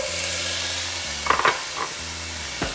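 Potatoes go into hot oil in a pan and sizzle with a soft, steady hiss over a low hum, with a few brief utensil clatters close by.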